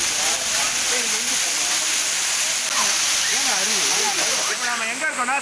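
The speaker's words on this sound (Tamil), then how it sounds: "அந்த அருவியை தான் இப்போ நீங்கள் பார்க்குறீங்க" Anaivari Falls near Attur in Salem district, a waterfall at a tourist spot, gives a steady, full rushing roar with no breaks, while someone talks throughout over the water.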